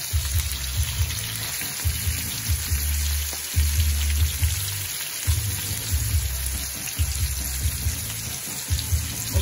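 Butter and garlic sizzle in a pan alongside steak, a dense, rain-like crackling hiss that carries on steadily at close range with small surges, no voices.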